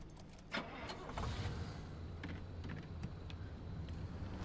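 Car engine in the video game Pacific Drive, a steady close rumble as the vehicle is driven into an auto shop, with a brief thump early on and no talk.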